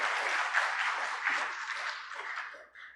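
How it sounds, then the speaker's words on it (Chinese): A church congregation claps together at a Sunday worship service to welcome a preacher, a sustained moderately loud round of applause in a hall that thins out near the end. "我们再次的拍手来欢迎我们的潘传道"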